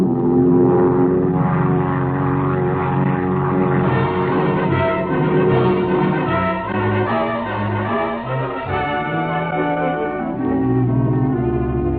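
A small plane descending to land on a hard surface beside a ship wreck drones with a steady, loud, harmonic engine tone that wavers slightly throughout, with no voices.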